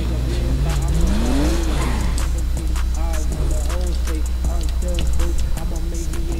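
A Nissan Skyline R33 in GTA V revs and shifts through the gears as it drives, with a loud, steady engine note that rises and falls and a voice talking over it.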